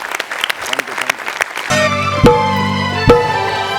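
An audience at a Marathi comedy show bursts into loud clapping after brief scattered sounds, the applause swelling and holding steady with a few sharp accents.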